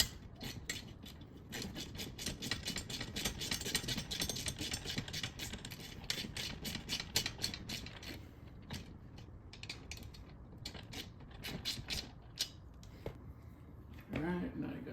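Ratchet tightening aftermarket seat bolts in a 2022+ Subaru WRX, quick repeated clicking strokes in bursts at a close but quiet level, with someone talking over it.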